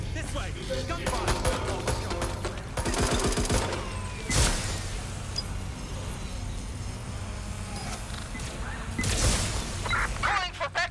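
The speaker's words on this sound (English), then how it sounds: "Gunfire!" Gunfire in the video game Watch Dogs: Legion: bursts of automatic shots and sharp cracks, with a couple of louder booming hits, rattle over continuous background game noise.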